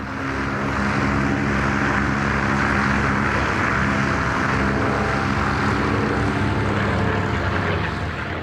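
A Spitfire fighter flies at the 2003 Australian International Airshow, its engine a loud, dense, continuous roar that stays steady and near throughout, with no talking.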